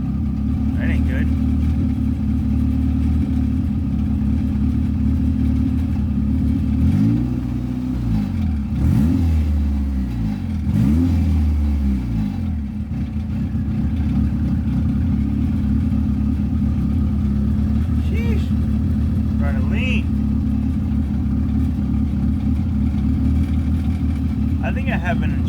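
A turbocharged F23 engine in a Honda Accord idles with a suspected injector or fuel pressure problem. The low, steady drone holds throughout, and a couple of brief revs rise and fall partway through.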